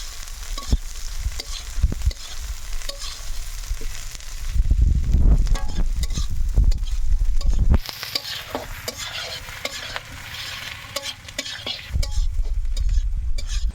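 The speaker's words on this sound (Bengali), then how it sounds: "পেঁয়াজটা আমার ভালো করে ভাজা লাগবে একটু লাল লাল করে ভাজতে হবে" Onions sizzle and crackle in a hot pan while a spoon stirs and scrapes repeatedly, close up, with no talking.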